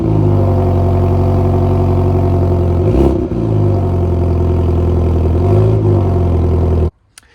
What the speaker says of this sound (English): It does sound pretty good on a cold start.